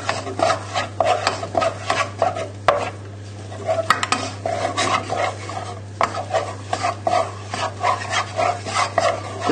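Butter being stirred into creamy apple sauce in a pan, a close, steady scraping and rubbing of a spoon against the pan in repeated strokes, with a constant low hum underneath and no talking.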